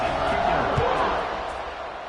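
Stadium crowd noise from a college football video game, with Wake Forest in a dynasty season, a broad steady roar building before a kickoff, mixed under a commentator's voice.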